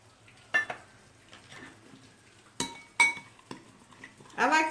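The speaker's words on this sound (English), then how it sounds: "So then you're just going to mix everything together." A spoon clinks and scrapes against a bowl while mixing a paste made with warm coconut oil, giving several sharp knocks and clinks over a quiet background, with a rattling stir at the end.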